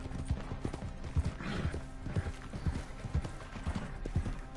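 Horse hooves clip-clopping in Red Dead Redemption Online, a steady rhythmic trot of muffled thuds under game ambience, with a faint voice at times.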